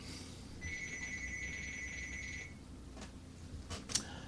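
A telephone rings in a two-pulse electronic trill lasting about two seconds, fairly faint on a talk radio show broadcast, followed by a few soft knocks and clicks with no talking.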